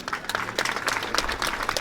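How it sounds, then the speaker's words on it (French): Applause at the inauguration of a school building in Sinfra fills the short stretch, a steady patter of many hands clapping without pause. "que je vous demande d'applaudir"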